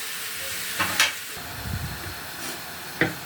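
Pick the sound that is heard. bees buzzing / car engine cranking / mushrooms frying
mushrooms frying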